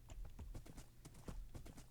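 Horse hooves clip-clopping in Minecraft, a steady run of close, crisp two-beat knocks near a large cave, alone with no voices.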